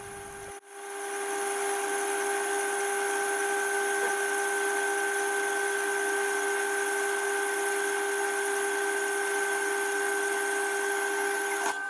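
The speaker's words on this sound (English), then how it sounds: "It's an easy job now to cut the blocks in the bandsaw to get two clamp caps" A bandsaw cuts small metal blocks into clamp caps, running steadily with a continuous high whine and motor hum, starting abruptly and holding at an even level throughout.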